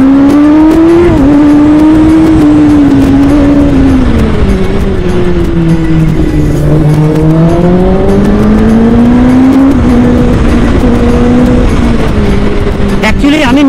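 A motorbike engine drones loud and close during a road ride, its pitch rising and falling steadily as it accelerates, with constant wind rush throughout.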